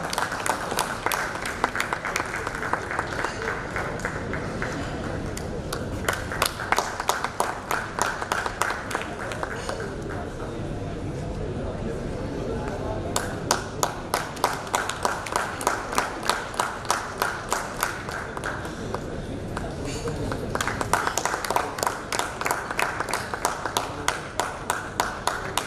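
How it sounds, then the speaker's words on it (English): Audience applause at a school education forum: sustained rapid clapping from a crowd, swelling and fading in waves across the whole stretch, with no talk over it. "Good round of applause, please, everyone."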